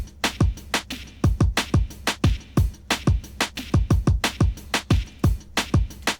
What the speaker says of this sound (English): And then finished it off with this closed hi-hat.